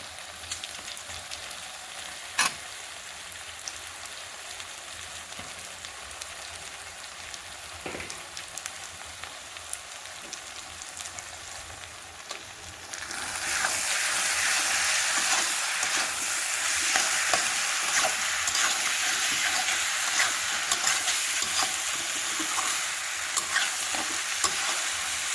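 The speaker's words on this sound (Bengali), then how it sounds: "অনেকক্ষণ কষাবো যাতে ভালো করে টমেটোগুলো গলে যায়।" Pork with garlic and tomatoes cooking in a pan: a soft crackling sizzle with scraping stirs, which swells into a loud, dense, steady frying hiss about halfway through and holds there.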